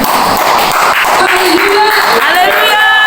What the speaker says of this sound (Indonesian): Ya, berikan tepuk tangan Tuhan.